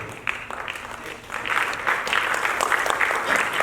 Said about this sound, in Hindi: लोगों की जोरदार तालियां